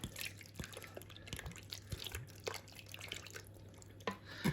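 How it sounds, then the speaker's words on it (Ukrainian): Ayran is poured over a lemon shashlik marinade in a bowl, quiet close drips and liquid splashes with small clinks against a soft steady hum. "беремо айран, заливаємо"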